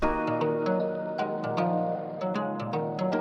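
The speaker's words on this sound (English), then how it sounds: "And then I have the second part of the verse where the pitch down flute comes in" A slowed, low-pitched flute melody rides over a thick beat with steady percussive hits, loud and continuous without any voices.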